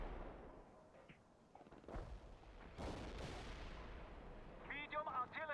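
Artillery fire in the World in Conflict video game: several heavy booms and rumbling blasts with crackling gunfire, soldier voices calling out over the battle.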